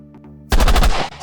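A burst of rapid gunfire in a 1951 gangster crime film, loud and close, a quick rattling volley of overlapping shots lasting about half a second after a short quiet lead-in.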